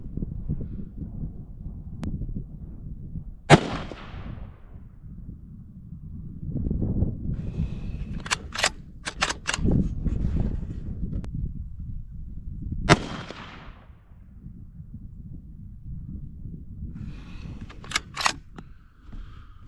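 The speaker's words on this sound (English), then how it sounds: "we're shooting at the center target on this with this Caldwell lead sled" A Ruger American Gen 2 rifle fires from a Caldwell Lead Sled rest at a range, with a few sharp, separated reports over steady wind noise and a loud crack standing out.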